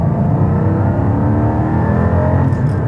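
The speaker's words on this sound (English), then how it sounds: "So I'm going to go from third into second." A Porsche 718 Cayman GT4 4.0 drops from third gear into second, its engine note rising into a loud, steady harmonic whine that holds close and continuous with no talk over it.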